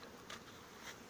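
Honey bees buzz steadily at a summer apiary, a close, continuous drone with a few louder swells as individual bees pass near, no voices present.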